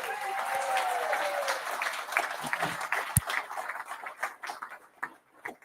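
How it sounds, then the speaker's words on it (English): A crowd at a political party launch rally in Newcastle gives a round of applause. Dense clapping thins out into scattered individual claps near the end, with a faint voice under it early on. "Give yourselves a round of applause"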